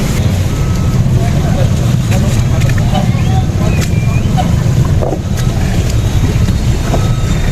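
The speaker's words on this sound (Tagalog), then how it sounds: "prepare na po tayo para sa pagdaong nitong mga bangka na ito" Boats pulling in to dock at the Surigao City boulevard, with a steady low engine rumble and constant wind buffeting throughout.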